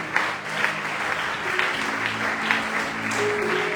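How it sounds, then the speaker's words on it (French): A church congregation applauds and cheers for God, dense continuous clapping with voices mixed in, loud and close, steady throughout with no break. "je veux que tu acclames encore très fort Dieu"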